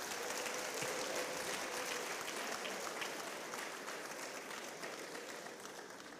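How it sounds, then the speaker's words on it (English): Sustained applause from a graduation ceremony audience, a dense steady wash of many hands clapping at moderate level that tapers slightly toward the end. "Please, let's give them another round of applause."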